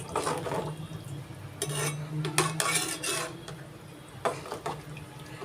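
A spoon scrapes and clinks against a cooking pot while dill leaf bath with peas and potato is stirred, in a few irregular clattering bursts with a faint low hum underneath.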